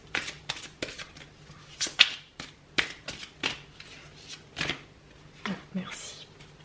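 Tarot or oracle cards being shuffled and drawn during a French relationship card reading, a run of crisp riffling snaps and soft slides at close range, with a voice speaking intermittently around them.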